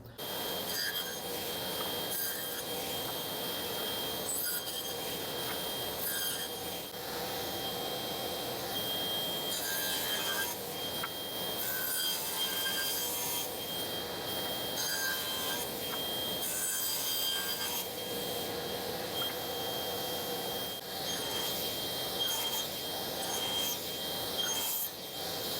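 A saw cuts through a wooden workpiece while a box is being built, giving a steady, continuous high-pitched rasping whine that holds for the whole stretch with small fluctuations and no pauses.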